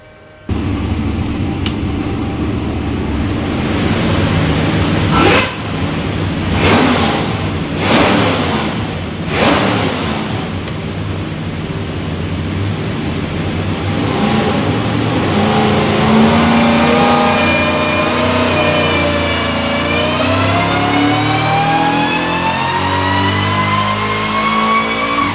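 A Whipple supercharged LS engine on a dyno climbs through a long, loud pull, with a few blips up front and then a steadily rising howl that holds to the end, no voices over it.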